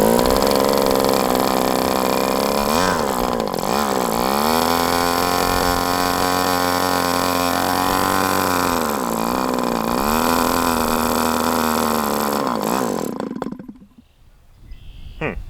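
An HP 61FS glow model engine burns a homemade 'Swamp Juice' test fuel, screaming at a loud, steady buzzing pitch with brief wavers before abruptly cutting out near the end.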